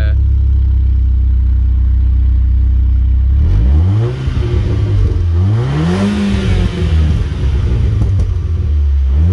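An Audi S3 fitted with a Milltek non-resonated cat-back exhaust idles with a loud, deep rumble, then revs up and down several times in rising and falling sweeps before settling back to idle, close up and with no talking.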